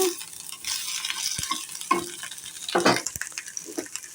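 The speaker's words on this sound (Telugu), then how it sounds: "అల్లం ముక్కలు వేస్తున్నాను." Ginger pieces fry in hot oil with tempering seeds and dried red chillies for a curd chutney, a steady close sizzle broken by the scrape and clink of stirring.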